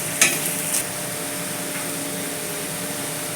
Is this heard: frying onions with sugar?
yes